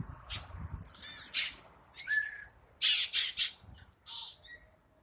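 Birds in a mango tree give a string of sharp squawks, whistles and chirps in irregular bursts, fairly close, with quiet gaps between calls.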